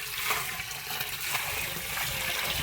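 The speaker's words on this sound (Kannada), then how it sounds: "ಅದರಂತೆ ಗೋಮೂತ್ರ ನಾವು ಮಿಶ್ರಣ ಮಾಡ್ತಿದ್ದು ನೀವು ನೋಡ್ಬೋದು" Cow urine splashes and gushes steadily as it is poured and mixed into jeevamrutha, a farm preparation with gram flour, a continuous close liquid rush.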